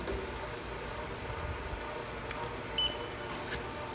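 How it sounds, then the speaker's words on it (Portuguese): A date coder printer on a conveyor gives a short electronic beep once amid steady low machinery hum, a brief tonal blip standing out near the end. "Eu vou parar aqui de frente para o datador para vocês escutarem o momento exato do bip."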